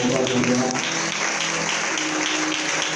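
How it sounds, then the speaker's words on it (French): Sustained applause from a large crowd at a Christian conference worship session, steady and dense throughout, with musical tones faintly underneath at the start. "Donne une offrande d'acclamation."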